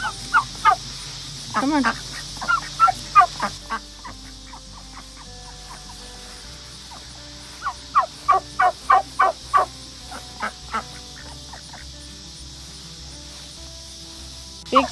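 Domestic turkeys gobble in rapid rattling bursts while being herded into their coop at dusk, two clusters of loud nearby calls separated by a quieter stretch, with a person briefly urging them on.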